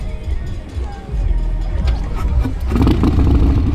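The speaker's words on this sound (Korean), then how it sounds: "로라이더 S 모델인데요 스크리밍 이글 튜닝 되어 있고 머플러도 튜닝이 되어 있네요 또 친절하게 시동 걸어주신다" A Harley-Davidson Low Rider S with Screaming Eagle tuning and an aftermarket muffler fires up at a tuning car festival, its engine catching and swelling into a loud, deep, throbbing idle close by.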